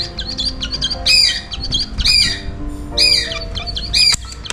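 A small pet bird kept in a cage chirps nearby in sharp, repeated bright calls at roughly one-second intervals, loud and clear over a low background hum.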